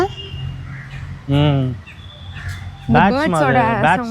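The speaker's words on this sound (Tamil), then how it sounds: "காலையில இந்த காக்கா சவுண்ட்லாம் நல்லா இருக்குல்ல" Nearby crows let out harsh caws in two bursts with a pause between, mixed with quieter background sounds, in the morning at a small lake in Coimbatore, India.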